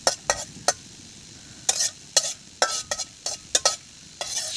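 Cashew nuts and raisins crackle while frying in a pan, giving sharp, irregular pops and short sizzling bursts close to the microphone, scattered over a quiet background with no talking.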